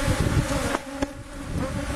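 Dense, steady hum of many honey bees buzzing inside an opened hive box during an inspection, close by and continuous, with a couple of brief knocks or clicks partway through.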